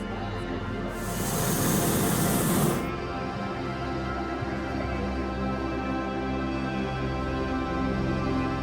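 A hot air balloon burner fires a loud, roaring blast of flame for about two seconds near the start, then cuts off, leaving steady outdoor background noise from a crowd gathered around the balloon.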